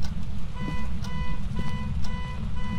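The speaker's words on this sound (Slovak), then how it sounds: "Zapol alarm." Inside the horror game Phasmophobia, a steady electronic alarm beeps in a fast repeating pattern over a heavy low rumble, loud and continuous.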